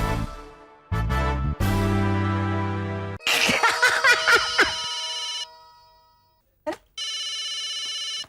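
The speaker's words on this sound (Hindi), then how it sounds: "जेठा अंकल का फोन?" A phone rings loudly with a melodic electronic ringtone, a few tonal bursts, then a chirpy warbling tune, a brief pause, and the ringtone resumes.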